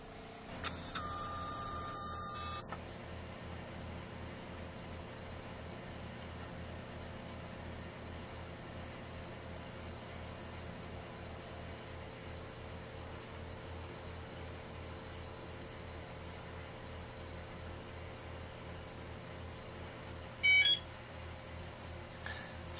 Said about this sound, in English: For the next 20 minutes, this will continue to vibrate and massage on the micro impact platform.